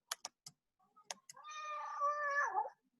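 A cat meows in a long, drawn-out, wavering call that rises and then falls, loud and close, after several sharp taps like keyboard clicks.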